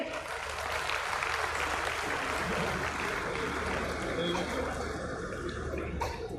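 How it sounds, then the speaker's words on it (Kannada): Audience at a Navaratri Dasara religious conference clapping, a dense continuous wash of applause from a large crowd held steady for several seconds, filling the hall with no pause. "ನಮ್ದೊಂದು ಚಪ್ಪಾಳೆ ಬರಲಿ ಅಲ್ವನ್ರಿ"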